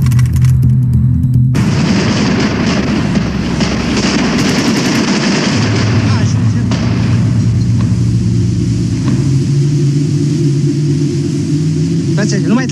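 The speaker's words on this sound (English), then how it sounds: "Inspection of the walls reveals over 100 rounds are fired at the elderly couple" Sustained firing squad gunfire in Romania, more than 100 rounds discharged in a dense, continuous barrage of automatic fire with heavy rumbling booms, loud and unbroken from start to finish.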